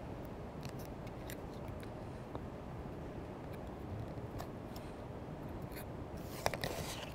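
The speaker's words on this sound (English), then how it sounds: "you would just trim off the edges" Scissors or a cutter trim the edges of quilt half-square-triangle fabric pieces, producing faint, close, repeated snips and soft rubbing over a steady quiet hiss, ending in a small cluster of slightly louder clicks.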